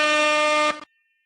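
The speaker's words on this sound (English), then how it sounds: "we closed out 2022 with an air horn officially." A single loud, sustained air horn blast sounds with a steady buzzing tone, then cuts off sharply, followed by a brief sputter and quiet.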